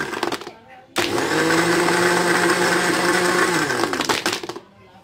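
A blender whips lassi with crushed ice, starting abruptly and running as a loud, steady whir for about three seconds before cutting off, with brief handling noise before and after.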